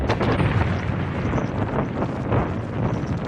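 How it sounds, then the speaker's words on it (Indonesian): A sustained, roaring blast rumbles loudly with a thick, turbulent low end, like an explosion's fiery aftermath. "ledakan tadi membakarnya"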